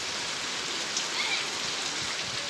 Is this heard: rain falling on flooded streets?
yes